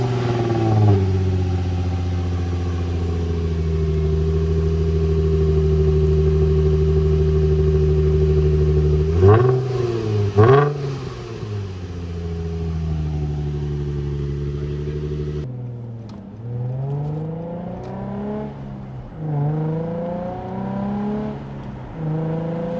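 A Nissan Z car's stock engine humming steadily from inside the cabin while driving, then revving up and down through several gear changes, loud and close with no talk.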